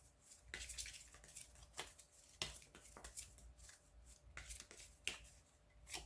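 Tarot cards are shuffled and drawn by hand, giving soft, quiet riffling and slapping bursts at irregular intervals, close up in an otherwise hushed room.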